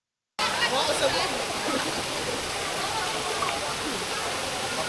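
A waterfall at an island falls roars steadily after a brief silent start, a dense broadband rush of water that stays loud and even throughout.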